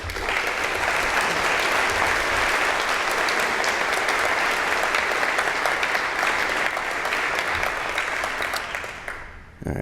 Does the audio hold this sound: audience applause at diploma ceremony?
yes